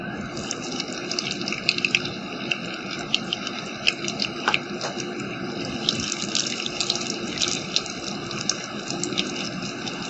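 Marinated chicken pieces sizzle in hot oil in a kadai, a steady close hiss and crackle running throughout with small pops and no speech.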